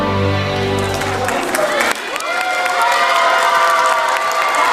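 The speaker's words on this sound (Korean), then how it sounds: "박수다 합니다. 박수!" An audience claps and cheers loudly during a lecture about Dokdo, the applause rising to a dense, sustained burst after a voice speaks over it at the start.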